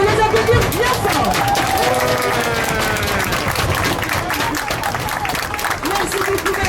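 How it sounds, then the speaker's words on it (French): A crowd claps steadily in a dense wash of applause, with voices and cheering mixed in throughout. "On mérite de les applaudir bien fort."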